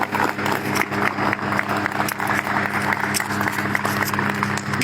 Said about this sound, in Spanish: Y pues recibimos con un aplauso, por favor, al embajador excelentísimo.